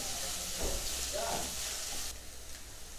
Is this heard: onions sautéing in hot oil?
yes